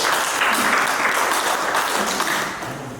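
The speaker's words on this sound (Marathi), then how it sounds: "आपण सर्वजण त्यांचं टाळ्या वाजून अभिनंदन" A crowd applauds steadily for a few seconds at an author-reader gathering, the clapping thinning and fading toward the end.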